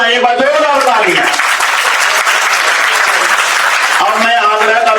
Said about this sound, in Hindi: खूब ताली बजाइए, जोरदार तालियां।